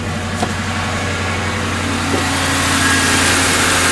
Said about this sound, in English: now listen to the motor